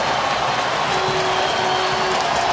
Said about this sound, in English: the crowd getting a little bit riled up